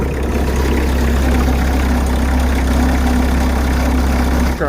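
A skid steer's diesel engine idles steadily after a cold-weather start with gelled fuel, a loud, continuous low rumble with a faint knocking texture and no speech.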